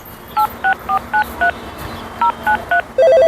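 A telephone keypad is dialed to call a wireman: eight evenly spaced touch-tone beeps in two bursts, loud and close, followed by the start of a ringback tone, with no talking.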